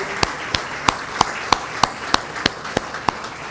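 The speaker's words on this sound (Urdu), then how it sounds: "ان زبردست لوگوں کے لیے زوردار تالیاں بجائیں" A single pair of hands clapping in a slow, even rhythm, about a dozen sharp, close claps roughly a third of a second apart, at a public address by the Sindh chief minister in Karachi.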